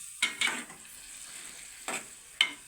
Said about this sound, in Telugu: అందులో ఆ అల్లం, ఆ టమాటా ఉల్లిపాయ పేస్ట్ వేసి కలిపారు ఫ్రెండ్స్